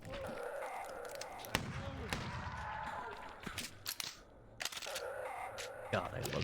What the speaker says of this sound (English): God, I love shotguns.